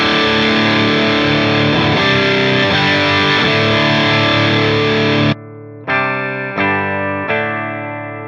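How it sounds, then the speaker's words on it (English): Electric guitar driven through a NUX Fireman distortion pedal on its high-gain channel, a loud saturated chordal passage ringing for about five seconds, then three sharp stabbed chords with brief gaps, no voices. "So even if I switch over to the second channel, which has a ton of distortion,"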